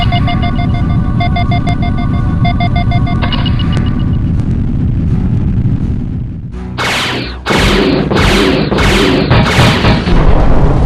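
Missile launches and explosions in the Wing Commander space combat game: a sustained electronic drone with beeping tones gives way to a heavy blast, then a rapid series of five sharp, loud bursts in quick succession.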